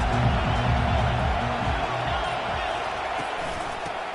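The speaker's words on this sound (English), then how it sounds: "Challenge this crowd to bring the energy, and I'd say they're doing that." Football stadium crowd roaring steadily, a dense, loud wall of cheering that holds through the whole stretch with a slight easing toward the end, with a commentator talking over it.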